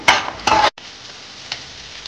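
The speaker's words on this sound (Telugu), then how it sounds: "ఎగ్ ఇప్పుడు కొంచెం ఫ్రై అయింది కదండి" Egg frying in a pan, a steady close sizzle with a couple of louder bursts from a utensil moving it at the start.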